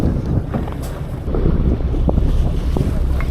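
South wind buffets a small fishing boat off Yeoseodo near Wando in winter, a steady broad roar of gusts and wind noise on the microphone with water slapping the hull beneath it, continuous and loud throughout.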